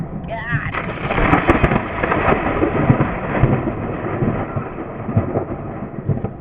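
Thunder from a lightning strike rumbles low and heavy, a rolling crackle that swells and lingers over several seconds, loud and close, with a voice talking over it.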